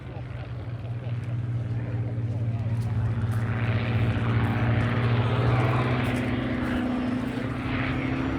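A Mark 11 photographic reconnaissance aircraft, unarmed and built for high-altitude, long-distance work, flies past at the Eastbourne Airshow. Its steady propeller engine drone holds throughout and swells slightly midway, with a commentator's voice over it.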